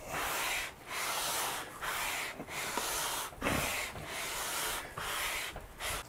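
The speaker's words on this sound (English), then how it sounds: "I will put a new piece of 180 on this sanding block." Sandpaper of 180 grit on a sanding block is stroked back and forth along a wooden electric guitar fretboard to shape a 12-inch radius, making steady, close rasping rubs in regular strokes with brief pauses between them.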